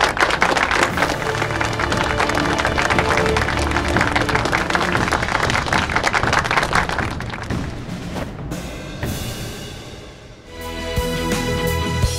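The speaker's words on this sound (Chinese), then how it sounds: "大家掌声欢迎" An audience at a firefighter recruit training session bursts into applause, a loud, sustained wash of clapping from many hands that gradually fades out.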